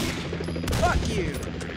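Rapid gunfire from the game Condemned: Criminal Origins, a burst of several sharp shots in the middle over a steady dense bed of game ambience, fairly loud and close.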